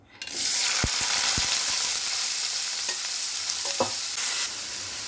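Bitter gourd pieces hit hot oil with a sudden loud burst of sizzling that carries on steadily, with a few clinks and taps of a spoon against the pan, close and without speech.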